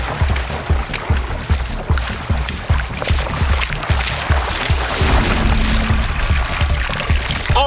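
A net scoops repeatedly through shallow weedy water, making rhythmic splashing and sloshing strokes up close, with a brief exclamation from a voice.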